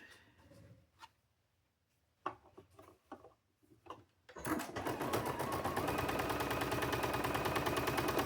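A sewing machine runs steadily, stitching small pieces of fabric for a cow-themed quilt; a few clicks and handling taps come first, then a loud continuous whirring stitch rhythm fills the rest.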